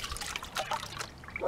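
River sand being panned in water, with soft continuous trickling and sloshing of water throughout, close and fairly quiet, a slightly louder splash at the end.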